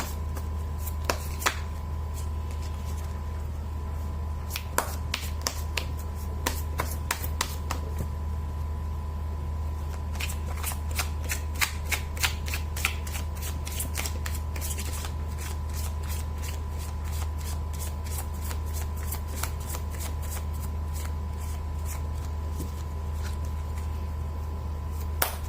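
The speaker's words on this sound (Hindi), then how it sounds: "कर लेती हूँ कार्ड की शफलिंग।" Tarot cards are shuffled by hand in repeated quick riffling bursts and soft taps, close and fairly quiet over a steady low hum, with no speech.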